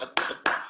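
Two sharp hand claps from a single person, spaced a fraction of a second apart, close and clear.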